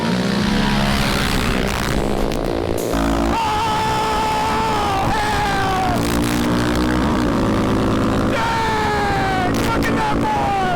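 Raptor 700 ATV engine with a blown head gasket, running loud and close with a steady droning roar and rising and falling pitch as the throttle changes, continuous throughout.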